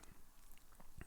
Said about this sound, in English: I'm chewing gum right now. Excuse the chewing.